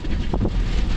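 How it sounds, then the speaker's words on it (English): Strong wind gusting during a September thunderstorm in McCook, Nebraska, a brief roaring rumble buffeting the microphone close up. "it's blowing like crazy out there"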